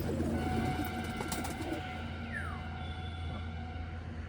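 High-flying pigeons at a home loft in West Bengal coo softly and steadily in the background, with faint calls drifting over a low outdoor hum.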